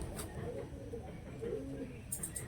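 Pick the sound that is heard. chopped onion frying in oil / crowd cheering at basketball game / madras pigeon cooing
madras pigeon cooing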